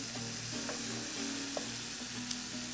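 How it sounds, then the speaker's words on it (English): Chorizo sizzles and fries in a skillet, a steady broadband crackle with occasional light pops and scraping from stirring, close and continuous without any talk. "And chorizo takes about 3 minutes to cook."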